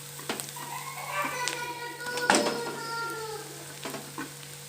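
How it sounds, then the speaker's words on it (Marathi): Cabbage fries in a pan for veg momos manchurian, a soft sizzle broken by scraping and clinking stirs, with faint voices of children in the background. "याला 2-3 सेकंद आपण फ्राय करून घेणार आहोत. आता पत्ताकोबी टाकणार आहोत."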